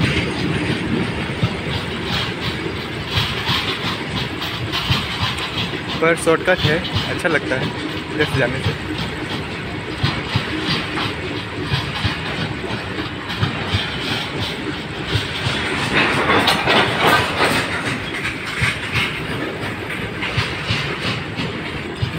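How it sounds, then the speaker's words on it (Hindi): A train passing near an overbridge crossing in Raigarh, a long steady rumble with clattering wheels and faint squeals over the whole stretch, swelling toward the end, with someone talking over it. "रेलगाड़ी आ जाता है बीच में।"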